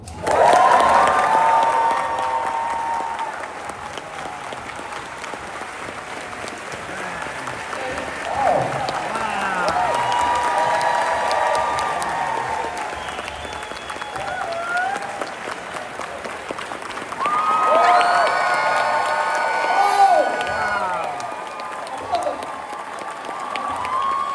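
A large audience applauds and cheers as Macaulay Culkin and Martin Short are introduced, a long roar of clapping with whoops and shouts that swells at the start, dips, then rises again later, with voices calling out over it.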